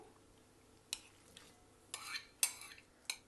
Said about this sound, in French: j'ai pris la sauce soja et je vais mélanger tout ça ensemble